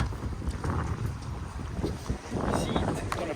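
Wind buffeting the microphone outdoors by a lake on a cool, blustery day, a steady rough rumble with gusty bursts, loud and close throughout.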